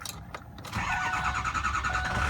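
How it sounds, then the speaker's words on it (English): A 2005 Ford F350 truck with over 240,000 miles cranks briefly, then its engine catches and settles into a steady, close, loud running rumble with no talk. "I'm going to start this truck up"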